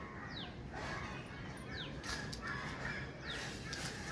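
Three distant crow caws spaced about a second and a half apart, each a short harsh call, over quiet outdoor ambience.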